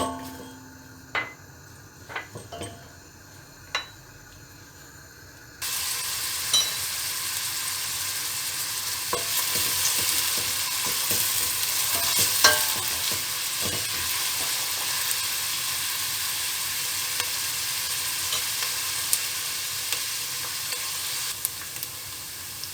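A few clinks and taps, then onions drop into hot oil in a pot and a loud steady sizzle fills the rest, with occasional stirring scrapes.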